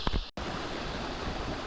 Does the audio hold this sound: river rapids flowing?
yes